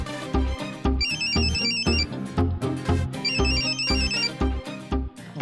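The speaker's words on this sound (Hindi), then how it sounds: "फोन आया।" A phone ringtone plays over a loud, steady musical beat, its bright repeating melodic phrase sounding twice in a continuous, near pattern.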